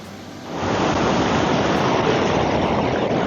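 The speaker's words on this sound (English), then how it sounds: "the water is flowing under the bridge as well. It's very deep, and the water flow is very strong." Strong, deep river in Pokhara rushing beneath a bridge, a steady broadband roar of turbulent water that swells up within the first half second and then holds loud and constant, close to the listener, with no voices.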